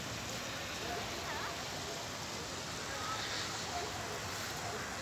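Rain falling in Kathmandu city during a hailstorm, a faint, even hiss of steady downpour that stays constant throughout, with no voices heard.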